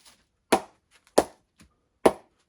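A cricket ball strikes low on the blade of a TON Super Retro Classic cricket bat three times. Each hit is a loud, crisp, close knock, spaced under a second apart with short silences between.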